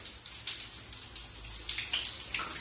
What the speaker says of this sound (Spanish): Observemos acá cómo cae el agua del baño. Cae bastante bien y es muy fuerte.